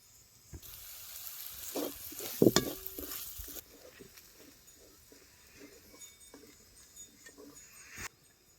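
Red chilli powder being stirred into a vada pav filling in a pan over a wood-fired village stove, with a steady sizzle, scraping spoon strokes and a few sharp clinks, louder at first and then settling into a quieter fry.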